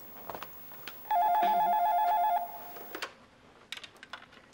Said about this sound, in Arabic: تليفون.